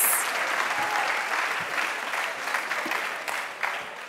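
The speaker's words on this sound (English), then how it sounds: "A huge round of applause again for our final winner of the evening" Sustained audience applause fills a crowded awards ceremony hall, steady and dense with scattered individual claps, staying strong throughout before easing slightly.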